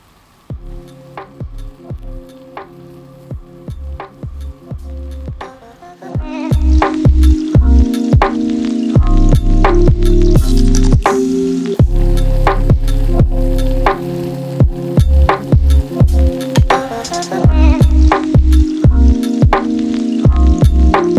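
Vegetables roast in a hot skillet, giving a steady loud sizzle with crackles and pops that swells sharply a few seconds in and continues throughout, along with a steady, rhythmic background beat.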